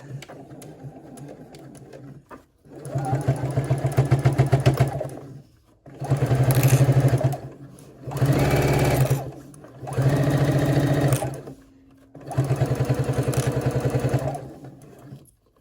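A sewing machine runs in five steady bursts of rapid mechanical stitching while installing a top zipper, each burst a few seconds long, separated by short pauses.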